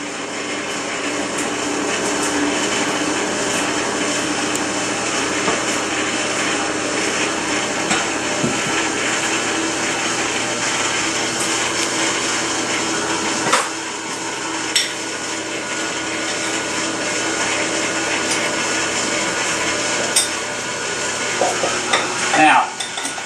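A mixer works dough with orange juice and dry ingredients in a bowl, giving a steady close whirring churn with occasional scraping and knocks against the bowl.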